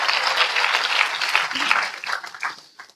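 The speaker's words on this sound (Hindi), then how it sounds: "वाह, ताली बजा रहे हैं लोग।" Clapping from a church congregation, a dense wash of many hands that stays steady and fairly close, then thins out and fades toward the end.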